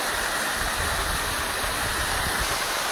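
Waterfall in Phoenix Park near Creede, Colorado, a loud, steady rushing roar of falling water heard up close, constant and unbroken with no voices.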